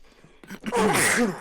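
A single loud sneeze bursts out after a quiet breathy intake, close and sharp, with no talking.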